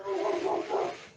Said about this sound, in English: So, yeah, somebody's got a dog going crazy.